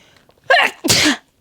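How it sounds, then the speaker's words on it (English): A single loud, close sneeze: a sharp intake followed by a forceful burst, then quiet. "If you just heard that sneeze, no you didn't."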